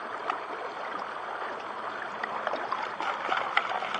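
Water sloshes and washes material out of a gold pan, rocked back and forth in a gentle rhythm, with soft splashes, trickles and small gravel rattles close by and no talking.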